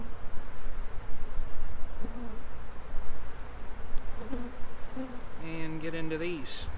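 Honey bees buzz loudly and continuously around an open hive during a spring inspection, a dense close drone with individual bees whining past, while a person speaks over it.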